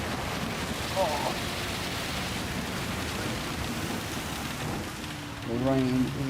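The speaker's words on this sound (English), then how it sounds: "The rain is coming down in different intensities." Steady rain hisses down during a Gran Turismo 7 race, a constant wash of droplets with brief snatches of voice cutting in near the start and again toward the end.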